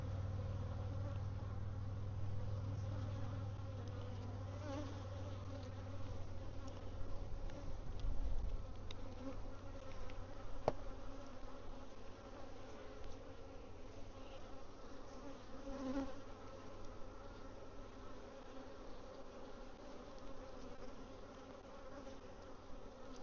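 Honey bees hum steadily inside a hive during a swarm check, a dense continuous drone that swells slightly midway and holds at an even, close level throughout with no talking.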